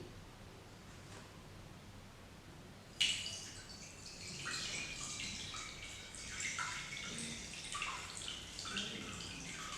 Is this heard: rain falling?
no